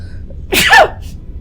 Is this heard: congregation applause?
no